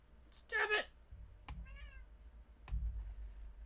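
A cat meows loudly near the start. A few shorter, quieter mews follow, mixed with soft thuds and handling noise.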